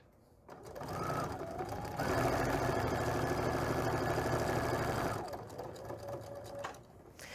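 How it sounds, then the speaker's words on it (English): A sewing machine stitching a table runner seam runs in a steady, close mechanical whir for a few seconds, then slows and trails off into lighter intermittent stitching. "Just put it on there, make sure it matches, and just sew directly on that line."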